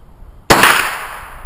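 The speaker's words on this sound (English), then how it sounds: "we're just out at the gun range blasting rounds" A single loud Henry .22 rifle shot at an outdoor gun range, a sharp close crack with a short decaying ring, heard alone.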